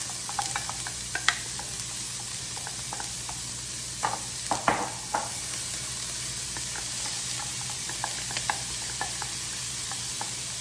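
Onions and peppers sizzle steadily in a frying pan, a constant hissing broken by sharp scrapes and clicks of stirring. No voices are heard.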